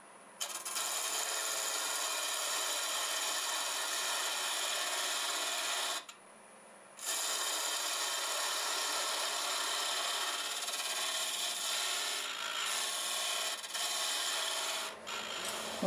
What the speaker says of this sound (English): I'll go ahead and use the parting tool and cut that tenon